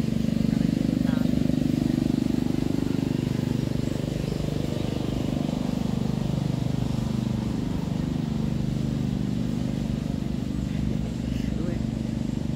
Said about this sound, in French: il y a un moteur qui passe là, j'arrête de parler